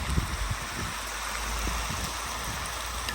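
Water is poured into a kazan over carrot, onion and meat fried golden for Ukrainian-style plov, giving a steady rushing splash with some sizzling bubbles close by.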